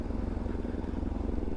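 A motorcycle rides over an extreme off-road dirt track, its engine chugging in a steady, uneven throb with rattling clatter, fairly faint and continuous.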